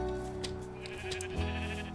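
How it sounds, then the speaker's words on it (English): Pink sheep in the Minecraft video game, modded, giving a short bleat over soft background game sounds, with a couple of brief clicks. "Name our pink sheepy."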